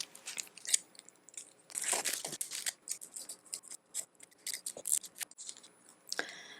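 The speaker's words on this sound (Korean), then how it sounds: "셀로판 비닐 종인데요. 이거를 작게 한번 조각을 내서 잘라보도록 하겠습니다." Scissors cutting cellophane sheet into small pieces for a craft, giving a string of crisp snips and crinkly rustles at close range, with short pauses between cuts and no voices.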